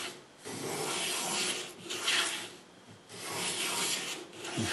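Record 43 plough plane shaving wood in slow repeated strokes, a near, dry rasping scrape that swells and fades with each pass, no voices.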